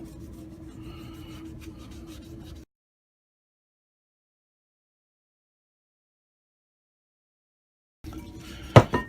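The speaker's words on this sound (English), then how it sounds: "we're just going to put some on a towel. I'm going to clean it." A towel rubbing and scrubbing a metal R200 differential part clean, a soft close rasping for a few seconds, then a long silence before more rubbing and a sharp metallic clink at the end.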